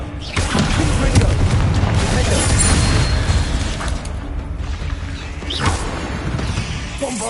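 Confringo spell blast in Hogwarts Legacy, a loud booming explosion with crashing debris that rumbles on for several seconds, followed by smaller bursts and whooshes near the end.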